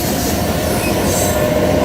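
A very long cargo train rolls steadily along the tracks, a loud continuous rumble of wagons with wheels squealing against the rails, heard up close with no voices.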